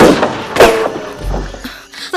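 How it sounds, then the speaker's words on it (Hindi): Gunfire in a dubbed Hollywood action movie, a few sharp loud shots and thuds in quick succession with a low rumble underneath, no speech. "वो हम पर गोलियां चला रहे हैं।"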